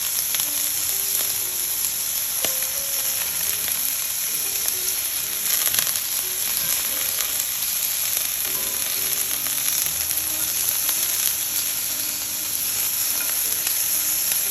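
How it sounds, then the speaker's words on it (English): Shrimp frying in a hot pan for Singapore mei fun, giving a loud, continuous hissing sizzle with occasional stirring scrapes close by, heard on its own with no talk. "I'm gonna add in our shrimp. Okay, so once the shrimp is starting to curl, alright, so we're gonna flip it on the other side."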